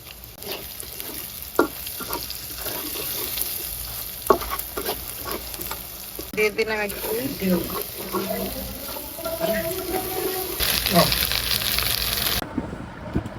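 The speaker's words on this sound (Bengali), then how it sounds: "সসেজটা আর পেঁয়াজটা একটু ভেজে ফেলছি" Sausage and onion frying in a pan for noodles, a steady sizzle with repeated scraping and stirring knocks, water splashing briefly near the end.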